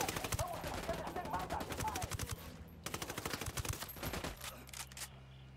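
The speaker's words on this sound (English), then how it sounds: "I'm opening fire." Rapid bursts of automatic gunfire in Ghost Recon Wildlands, loud and close, rattling in dense volleys with a short gap near the middle, over game ambience with a voice speaking briefly underneath.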